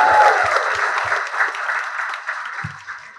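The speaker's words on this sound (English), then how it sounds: "let's give a huge round of applause" Audience applause at a cricket team event, a steady wash of many hands clapping that runs loud throughout, with a few low thumps scattered beneath.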